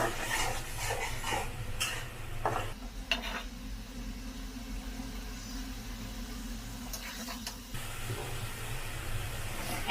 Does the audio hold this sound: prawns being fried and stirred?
yes